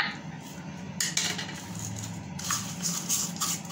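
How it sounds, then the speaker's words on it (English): A spoon scraping and clinking in a small dish while sugar is stirred into lemon juice for a face mask, scattered close clatters with quieter gaps between. "So I'm adding the sugar into the lemon juice."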